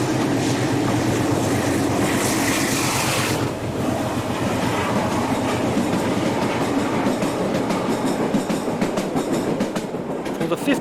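Portuguese diesel locomotive 1501 hauls a passenger train from Barreiro Terra Yard. The engine throbs loudly and close by, and the rhythmic clickety-clack of the wheels on the rails continues steadily throughout.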